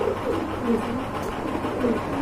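A pair of Danish pigeons with deep red eyes coo softly in low repeated rolls, close and steady over quiet background noise.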